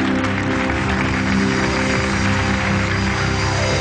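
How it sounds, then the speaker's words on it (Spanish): Loud, dense applause from a live audience at a Mexican comedy show, a continuous wash of clapping with a low rumble underneath, sustained at an even level throughout. "El aplauso fuerte para Jorge el Ruso Gómez y Piero."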